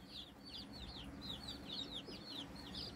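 Meat bird chicks in a homestead brooder peep in quick, repeated high chirps, a steady run of calls close by over a low background hum.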